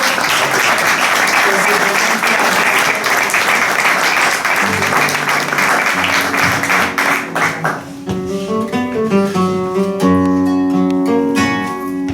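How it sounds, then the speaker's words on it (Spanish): Audience at a Spanish lecture honoring a bullfighting maestro breaks into loud, dense applause for a guitarist, which fades after about seven seconds as guitar music and singing begin. "le pido un fuerte aplauso"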